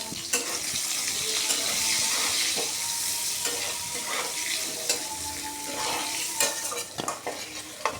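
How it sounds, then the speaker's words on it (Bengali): Potato pieces lightly frying in oil with salt and turmeric, a steady bright sizzle with scraping and clinking stirring strokes throughout, close and loud with no talking. "একই তেলে দিয়ে দিব আলু। আলুগুলোকেও হালকা ভেজে নিতে হবে।"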